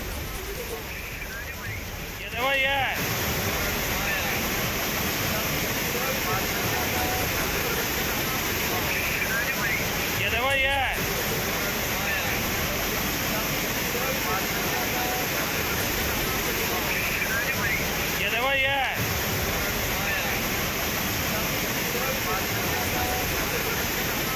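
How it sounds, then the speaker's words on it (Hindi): Floodwater rushes hard over a submerged culvert in Madhya Pradesh after torrential rain. It makes a continuous, loud, broadband roar, close and unbroken for the whole stretch. "यहां पुलिया के ऊपर से पानी का तेज बहाव साफ देखा जा सकता है।"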